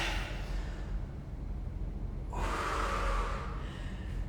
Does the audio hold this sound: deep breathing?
yes